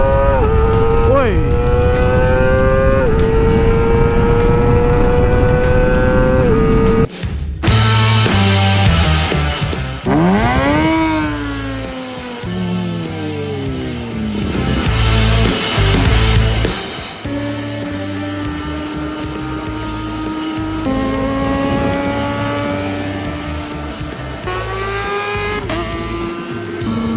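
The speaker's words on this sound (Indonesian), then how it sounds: "Kita gaskan dan nikmatin nyoret kali ini dengan knalpot baru buat ZZ nya." A Kawasaki ZX25R with a new Akrapovic exhaust revs hard and close, its high-pitched four-cylinder scream climbing through upshifts and dropping on downshifts, with a brief cut and rises and falls as the bike rides on.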